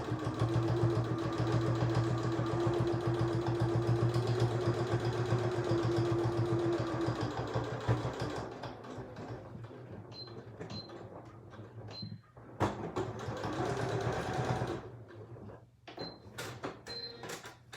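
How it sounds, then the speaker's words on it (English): A sewing machine stitching a seam on a bag: a steady motor whir runs for about seven seconds and then stops, followed by scattered clicks and handling sounds. "And sew down one side."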